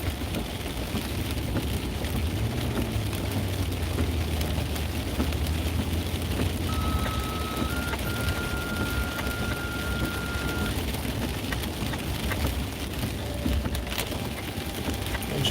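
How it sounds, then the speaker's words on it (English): Heavy rain drums steadily on a car during a flash-flood storm chase, a dense continuous wash with a faint engine hum underneath and no talk. "it's raining too much"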